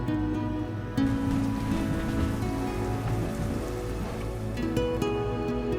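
Monsoon rain in the jungle falls in a dense, steady hiss and patter of drops on surfaces, constant and close with no voices.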